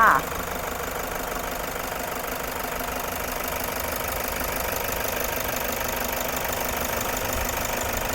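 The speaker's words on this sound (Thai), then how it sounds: "ตอนนี้สตาร์ทเครื่องอยู่นะคะ คุณลูกค้าสามารถฟังเสียงเครื่องยนต์ได้เลย" The 3.0-litre diesel engine of a grey 2017 Toyota Commuter van with manual gearbox idles steadily, a continuous rattling, knocking hum that stays even and close for several seconds after a brief louder moment at the start.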